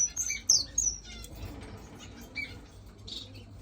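Finches in a bird-room aviary give sharp, high chirps close by, bunched near the start, with soft wing flaps and rustling in between and a few scattered tweets later, and no voices.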